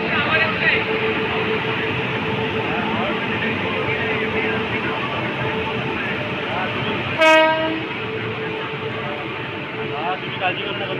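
Steady rumble of a moving train fills the clip, with a short horn blast partway through and people talking faintly underneath.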